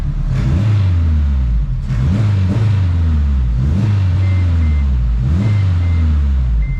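A rebuilt turbo K24 engine in an AWD wagon runs loud and close on all cylinders, its smooth idle rising in several repeated revs with short whistling turbo tones.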